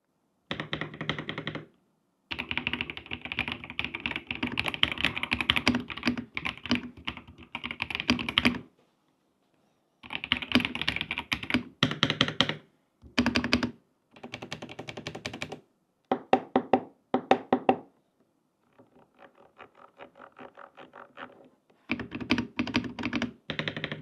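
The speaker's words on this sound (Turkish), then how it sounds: "Peki bu silver switch'ler nasıl ses çıkarıyor?" Typing on a Royal Kludge mechanical keyboard fitted with silver switches: close, crisp, rapid clacking in bursts separated by short silences, with no talking.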